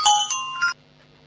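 A phone ringtone for an incoming call plays bright repeating electronic tones in three quick bursts, then cuts off into near silence.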